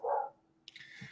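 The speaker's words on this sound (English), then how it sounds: "that's my dog Ghost" A single short bark from a pet dog named Ghost, fairly close and clear, followed by faint rustling and quiet room noise.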